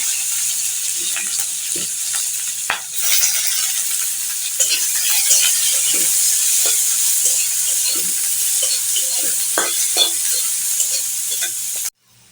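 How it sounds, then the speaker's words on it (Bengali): Whole spices such as cinnamon, cardamom and black pepper sizzle steadily in hot oil in a pan, with repeated scraping and stirring clicks throughout, close and fairly loud, ending abruptly. "দারচিনি, এলাচ, গোলমরিচ মিশিয়ে দিচ্ছি।"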